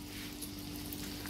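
Semolina-coated chonak (jitada) fish frying uncovered in hot oil, a steady, close, full sizzle with no talking.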